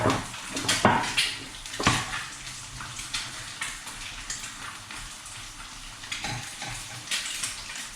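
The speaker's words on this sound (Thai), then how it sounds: "คุณก็จะเอาคุณเชียง ไปผัดก่อนเลยให้คุณเชียงสุก สุกไปพร้อมกับไข่เลยค่ะ" Chinese sausage and egg stir-fried in a pan, a steady soft sizzle with intermittent scraping and stirring clanks of the utensil against the pan.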